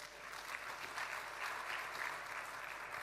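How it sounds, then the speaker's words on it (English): A conference audience applauds the Prime Minister after a talk on epidemic preparedness, a soft, even wash of many hands clapping, distant and fairly faint, holding steady throughout. "Let's give the Prime Minister a round of applause"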